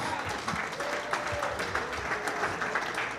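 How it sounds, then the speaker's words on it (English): Applause from a dinner audience honoring a speaker's 70th birthday at an Old Guard football gathering, a steady dense clapping that holds for several seconds with a faint tone and murmur beneath. "Give me a round of applause for that"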